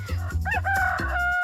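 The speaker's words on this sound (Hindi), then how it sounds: "जब एक मुर्गे की पुकार ने उनको जगाया।" A rooster crows once, loud and close, a rising then sustained cock-a-doodle-doo.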